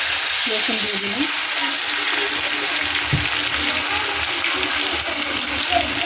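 Garlic frying in a generous amount of hot oil in a wok over low gas, a close, steady sizzle with a brief clatter of stirring early on, no one speaking.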